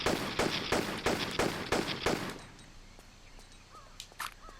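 Rapid pistol shots at spiders in a Tomb Raider level: about seven sharp, evenly spaced cracks in quick succession that end after two seconds, followed by quiet ambience and a few faint chirps.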